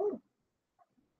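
Puppies give one short close bark followed by two faint whimpers, with quiet gaps between them and no talk.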